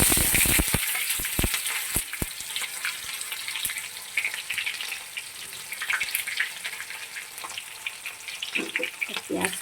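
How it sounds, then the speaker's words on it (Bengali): Sliced onions fry in a pan with a continuous bright sizzle and scattered pops, close by, opening with a few sharp knocks of a utensil against the pan. "মোটামুটি ভাজি হয়ে গেল পেঁয়াজটা"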